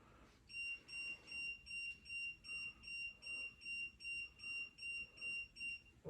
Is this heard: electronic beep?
yes